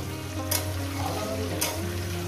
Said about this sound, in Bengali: ঝিঙে আর কাঁচা লঙ্কা আমি একসঙ্গে দিয়ে দিলাম। দিয়ে এটাকে আমি 4-5 মিনিট ধরে ভেজে নেব।